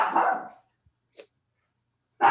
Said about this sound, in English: Oh, it's your dog.